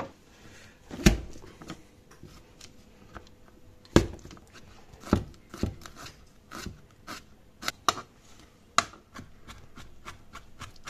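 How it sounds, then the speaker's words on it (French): Sharp, irregular knocks and crunches on a hard surface, a few louder presses among softer taps, like cloves being crushed with a blade, close up. "on va détailler les gousses d'ail. Donc, je les écrase."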